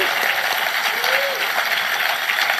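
A large crowd applauds life members at the Queensland Labor conference, a dense, steady wash of clapping that holds without a break, with a few voices mixed in.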